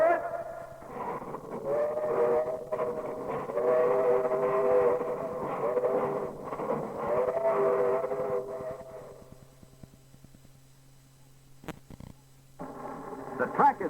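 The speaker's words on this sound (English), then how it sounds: "Listen to the steam turbine locomotive as it comes thundering down the main line" A Lionel steam turbine model train locomotive rumbles along its track, sounding a long chorded steam-style whistle over the running noise, then fades before a short sharp click and a final whistle blast.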